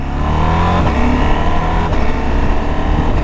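A 2021 KTM 890 Adventure motorcycle engine pulls hard and loud close by, its pitch stepping as the quick shifter snaps through gears under steady road and wind noise, with no talk.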